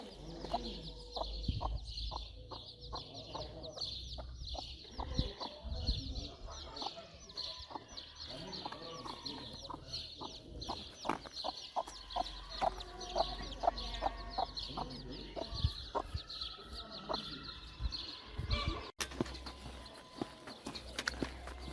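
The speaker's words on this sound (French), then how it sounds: "C'était la minute chèvres et gallinacés de cette étape en arrivant à Los Arcos." Chickens cluck and call intermittently near a roadside on the Camino approaching Los Arcos, soft scattered clucks with occasional footsteps and faint distant talk in a quiet outdoor setting.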